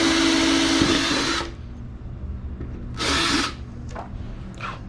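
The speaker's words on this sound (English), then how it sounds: "finish up drilling our holes" A power drill bores holes for an aero splitter on a 2015-2020 Ford Mustang, with one long loud burst, a pause, then a shorter burst and a few faint brief whirs, close by and with no talking.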